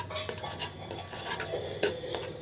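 Sugar and a splash of water stirred in a pan as it cooks toward caramel, with steady metal scraping and clinking of a utensil against the pan, a few sharper knocks, and no talking.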